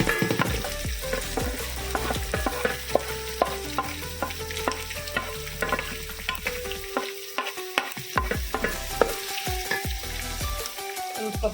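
Onions frying in a pan for an ivy gourd dry dish, a loud close sizzle broken by frequent clattering stirs with a spoon, the crackle dipping briefly in places.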